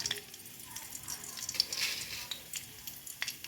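Mustard seeds and cumin sizzling in oil in a pan, a faint, crackling fizz with scattered small pops, close by.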